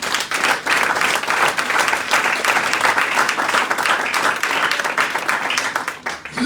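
A church congregation at a Sunday service applauds the Lord with sustained, loud clapping and crowd noise that fills the room throughout, easing slightly near the end.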